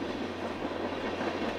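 A moving train in the video game 428 gives a steady, dense rumble with a low hum, continuous and fairly loud throughout. No one speaks over it.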